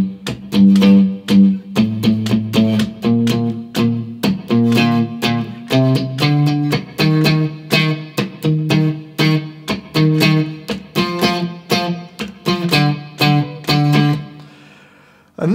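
Electric guitar plays the intro line, a close, loud, lightly distorted riff of punchy repeated notes in a steady groove that ends with a short fade, no voices.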